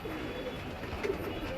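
A racing pigeon, home after a long flight, with soft cooing from other pigeons nearby, steady and close, and a few faint sharper sounds around the middle.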